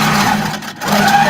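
A computerized quilting machine stitching with belts on for added resistance, giving a steady, close mechanical whir with a brief dip midway before it resumes.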